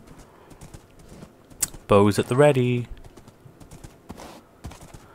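A horse's hooves clip-clop as it rides through the Nether in Minecraft, a steady run of light, quick clicks under a voice, which briefly gets louder.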